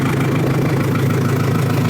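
A tractor with a slug pellet spreader attached runs steadily, a loud continuous low engine drone with a fine rattling texture, close and constant, no talking.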